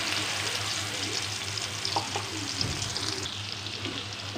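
Chilies frying in hot oil for a balado sauce make a steady, close hiss and crackle that runs without a break, with a few faint clinks and no voices.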